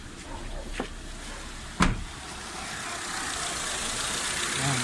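Mitsubishi Lancer engine idling steadily after a MAP sensor repair, a smooth low hum close by, broken by two short sharp knocks early on, with no talking.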